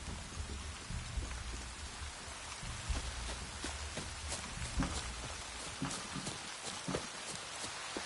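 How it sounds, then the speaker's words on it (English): Rain falling in the video game The Witcher 3: a steady hiss of rainfall on surfaces with dense, irregular droplet patter and a few heavier splashes throughout. "Looks like rain."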